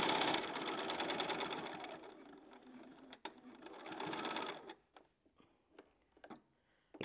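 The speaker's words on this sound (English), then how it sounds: "And then I'm going to sew to there, so I close my gap" A sewing machine stitches a fabric book cover with a fast, steady whir that slows and stops, followed by a few clicks and light handling sounds.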